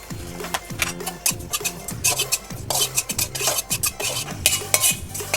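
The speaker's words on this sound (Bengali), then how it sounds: "এবার আমি সাদা তিল একটু ফ্রাই করে নেব, 1 চামচ মতো করব।" White sesame seeds being fried in a pan for honey chicken, with busy stirring and scraping of a utensil against the pan and light clinks and sizzle, continuous and close with no talk.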